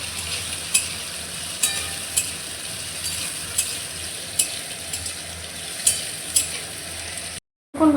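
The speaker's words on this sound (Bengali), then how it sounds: "আলুগুলোকে লাল লাল করে ভেজে নেব।" Potatoes fry and sizzle in hot oil in a home kitchen, a steady close crackle with periodic sharp clicks of stirring, cutting off briefly near the end.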